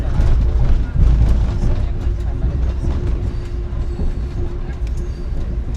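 Passenger train from New York to Washington pulling away, with a steady rumble and rhythmic rolling of wheels on track heard up close and fairly loud throughout, with no talking over it.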